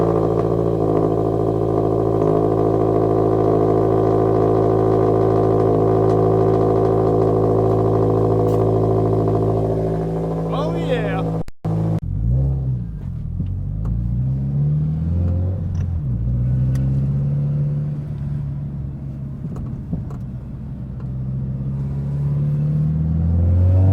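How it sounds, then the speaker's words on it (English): A car left unstarted for about a week, with worn handbrake shoes, idles with a steady low rumble after its cold start, then cuts out briefly and settles into rougher, varying engine noise as it drives, loud and close with no talk. "This car hasn't been started for about a week, so this is about as good as a cold start as you could get."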